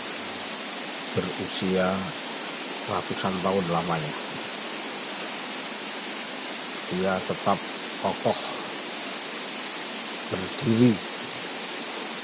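A constant broadband rush of falling water at the Grobogan Sewu waterfall fills the scene, with someone narrating over it in short phrases.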